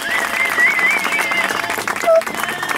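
Audience at an evening exhibition event applauding to welcome presenters, a loud, continuous wash of clapping with a few whistles and cheers rising above it, voices faintly mixed in.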